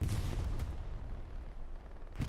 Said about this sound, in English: I heard the cannon come out.